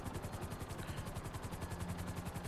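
A military helicopter in the video game GTA V Online gives a steady, rapid rotor chop that pulses evenly throughout, with a constant engine drone beneath.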